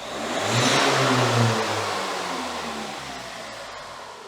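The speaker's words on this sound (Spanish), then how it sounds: "si le pegamos un acelerón brusco" A diesel engine with Bosch Euro VI injectors is given a sharp blip of throttle, its roar swelling quickly and then slowly dying away, loud and close with no talk.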